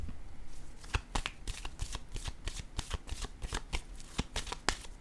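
A deck of tarot cards being shuffled by hand close up, a steady run of crisp riffling slaps and flicks, fairly loud with no talking.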